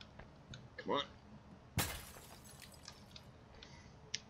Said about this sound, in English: you have to destroy all the glass in this structure